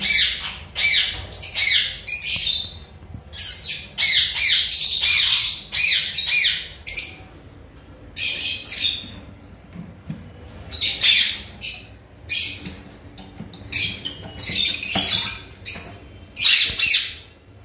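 Ringneck parrots, including a male, squawk loudly and harshly in repeated bursts, close by, with short pauses between calls and a quiet hum underneath.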